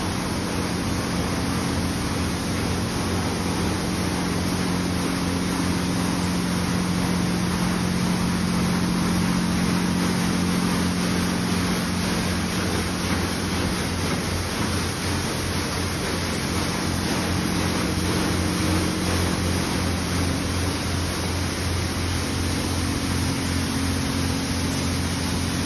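A high-pressure rinse in an automatic car wash sprays a steady, loud, broadband hiss of water that rushes on unbroken for the whole stretch, with a faint hum underneath.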